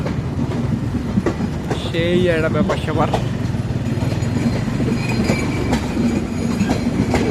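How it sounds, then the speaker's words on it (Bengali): Train rolling up to a railway level crossing in Nilphamari, its wheels clattering and a horn-like tone sounding midway, steady and close throughout while people talk over it. "ট্রেনও চলে আসছে"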